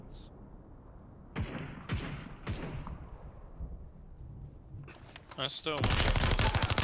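Gunshots in the battle royale game Super People: a few sharp, loud single cracks spaced apart early, then a dense burst of rapid fire at the end, with a brief spoken word mixed in.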